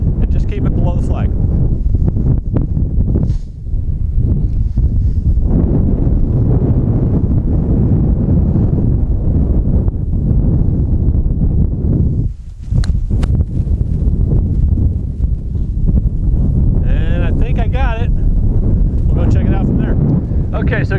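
Wind gusting across an outdoor golf course at Sandia Golf Club, a steady rushing buffet against the microphone that runs almost the whole time, with a brief lull and someone talking over it.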